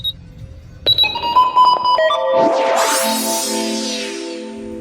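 Electronic button beeps from a RadioShack 12-254 radio: a quick high chirp, then a few steady tonal beeps, giving way to loud rushing static that fills the rest.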